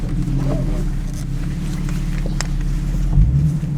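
Nissan 370Z Nismo sports car engine droning steadily while driving, a low continuous interior hum with a brief louder swell near the end, no talk heard.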